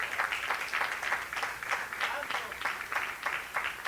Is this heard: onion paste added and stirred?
no